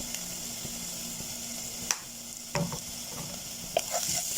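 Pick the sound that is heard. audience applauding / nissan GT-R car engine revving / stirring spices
stirring spices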